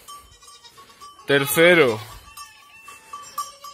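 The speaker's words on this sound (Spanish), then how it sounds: "Vamos a ver a las cabritas pequeñas." A young goat lets out one loud, wavering bleat close by amid quiet barn noises and faint clinks, with brief speech just before it.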